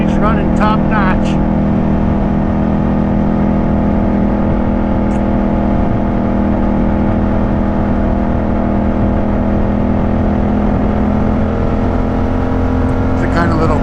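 A Yamaha MT-07 motorcycle engine runs loud and close with a steady, throbbing hum, holding an even idle throughout, while people talk over it.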